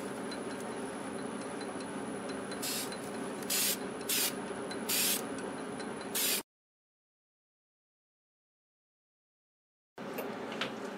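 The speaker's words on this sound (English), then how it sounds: "Okay, I'm going to spray the lacquer on. I'm using gloss." A spray can applies gloss lacquer to a small wood-turned brick vase in short hissing bursts, about five in quick succession, a pause, then another burst.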